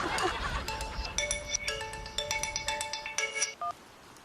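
A telephone rings with an incoming call: a bright electronic ringtone plays repeated short tonal bursts in a steady rhythm, fairly quiet and close, over faint room noise.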